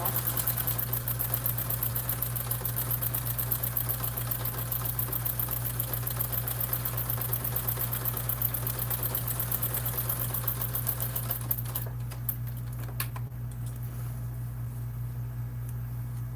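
A sewing machine stitches fabric for a Swoon Maisie bag, running in a steady rapid whir with a constant low motor hum, close and loud, easing into a lighter hum near the end.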